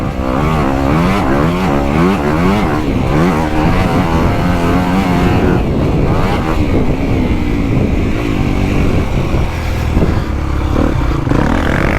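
A 2025 Honda CRF250R dirt bike engine revs hard out of a corner, loud and continuous, its pitch sweeping up and down through rapid acceleration with no voices.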